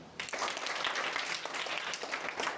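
Applause from a group of children in a radio studio, a dense steady patter of many small hands clapping together, fairly loud and continuous for a couple of seconds with no talking.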